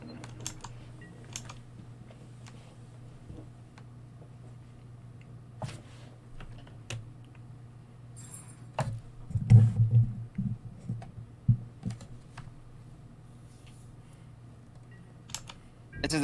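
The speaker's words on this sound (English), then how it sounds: "It's his opponent typing in chat." Someone types on a computer keyboard in scattered bursts of clicks, quiet and close over a faint steady hum, with a denser flurry of keystrokes near the middle.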